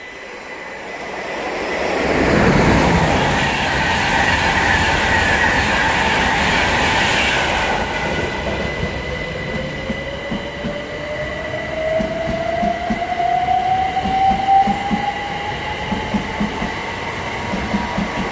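A Class 37 diesel locomotive runs through Hitchin station on the East Coast Main Line. A loud roar swells and passes close by, then rail clatter and a long rising wheel squeal follow as the train moves away.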